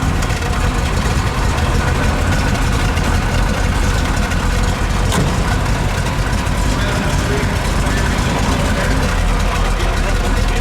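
A fuel-injected 1963 Chevrolet Corvette convertible with a four-speed idles with a steady, loud, deep rumble throughout, its low engine note continuous and close.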